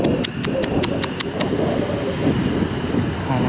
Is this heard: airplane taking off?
yes